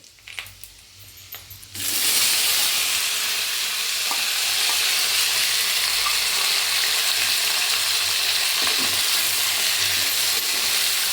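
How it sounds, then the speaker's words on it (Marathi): Hot oil spatters and sizzles loudly in a pan while a home cook fries curry leaves for an abai bean (broad bean) vegetable dish, a dense continuous crackle bursting in after a quieter start and holding steady close to the mic. "बघा हे किती तेल उडवत आहे"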